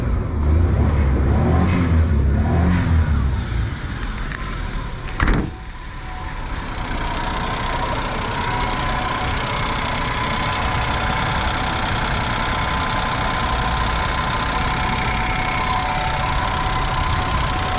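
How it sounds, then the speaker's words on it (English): A Suzuki Jimny engine revs loudly at close range for several seconds, gives a sharp blip, then drops to a steady, even idle with no voices. "Again, I'll give it some gas so you can see it."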